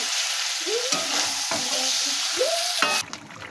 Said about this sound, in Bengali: আর আস্তে করে 10 মিনিট মতন মাংসটাকে এবার আমরা কষিয়ে নেব।